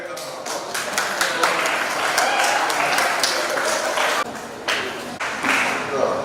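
A hall audience at a weightlifting competition claps continuously, a dense spatter of hand claps that rises and dips slightly without stopping.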